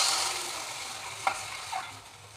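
Water is poured into a hot pan on a stove for cooking Maggi noodles, giving a soft, steady hiss and sizzle with a couple of brief splashy bursts, close and fairly quiet, with no talking.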